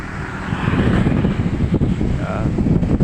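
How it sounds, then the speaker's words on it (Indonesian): Strong, gusty wind roars against the microphone in an open area toward Sampang district in Central Java, a steady loud rumble with buffeting surges throughout. "Ini anginnya sangat besar, kencang sekali."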